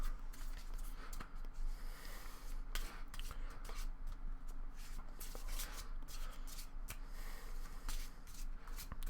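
A deck of cards is shuffled by hand at a podcast table, repeated riffling and brisk flicking bursts, close and clear.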